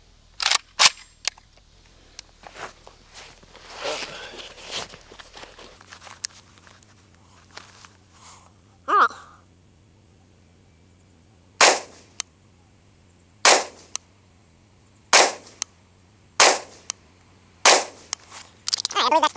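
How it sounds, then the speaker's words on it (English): A rifle fitted with a magnified scope and a Texas Weapon Systems Gen3 dog leg dust cover fires a group at a target: sharp, loud shots, a few early, then several more spaced a second or two apart over a quiet outdoor background. "let's shoot a group, see what it did."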